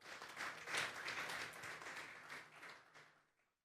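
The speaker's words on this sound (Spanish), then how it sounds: "Denle un fuerte aplauso al Señor esta tarde." Applause from a church congregation during a Sunday afternoon service, a steady wash of many hands clapping at moderate distance that fades out over a few seconds.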